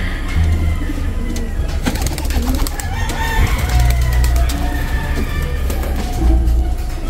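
Pigeons coo steadily during a feeding of nearly five hundred birds, a dense continuous flock murmur with bursts of flutter, close and fairly loud throughout.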